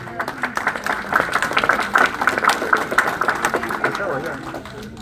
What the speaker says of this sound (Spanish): Recibamos con aplauso al compañero Santos Saavedra.